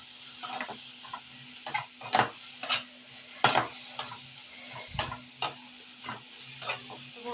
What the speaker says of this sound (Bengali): আর দিয়ে দেবো পরিমাণ মতো লবণ, দিয়ে আবারও সব মশলাগুলোকে একসঙ্গে আমি কষিয়ে নেব।